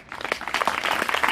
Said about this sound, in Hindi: खुशी से जोर से तालियां बजानी है